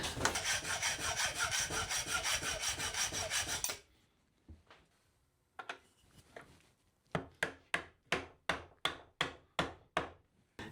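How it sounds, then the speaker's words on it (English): A length of 10mm threaded rod being cut with a saw, starting with a loud, continuous rasping run, then a pause and a few tentative strokes, before a steady series of short, rhythmic sawing strokes. "I have some 10mm threaded rod. So I'm going to get this cut to the length I need."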